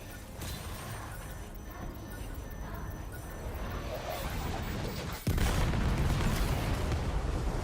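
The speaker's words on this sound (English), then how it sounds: "Watch out, Sam. Opening fire." Gunfire in Death Stranding 2, a dense, rumbling barrage that builds steadily and then jumps louder with a sharp impact crack, continuing as a heavy, sustained roar.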